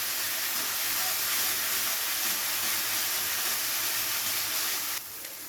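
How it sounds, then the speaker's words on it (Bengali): Onions sautéing in a pan with ginger, garlic and green chili paste, a steady loud hiss of frying that runs unbroken and drops slightly in level near the end. "আদা রসুন আর কাঁচা লঙ্কা বাটা দিয়ে খুব ভালো করে পেঁয়াজের সাথে একবার কষিয়ে নিতে হবে।"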